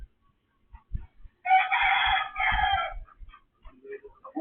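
Chickens in a backyard: a rooster crows loudly and nearby, broken into two strong bursts, with scattered soft clucks and small yard noises around it.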